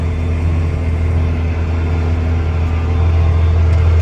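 A Kenworth truck's engine rumbles steadily at close range on a farm during wheat planting, a deep continuous idle-like drone with no talk.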